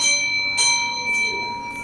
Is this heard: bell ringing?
yes